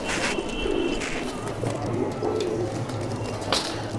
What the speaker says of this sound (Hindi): तो दोस्तों ये कबूतर हैं, सारे सेल में अवेलेबल हैं।